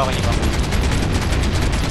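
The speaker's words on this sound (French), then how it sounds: "je me prends des tirs sur la gauche" Gunfire rattles steadily in a dense, continuous burst in the Heroes and Generals video game, with tank combat going on around it.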